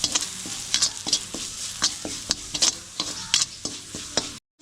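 Curry leaves fry in hot oil in a pan, with an ongoing crackling sizzle broken by about a dozen sharp, rhythmic stirring scrapes and clacks, close and fairly loud, then a sudden stop.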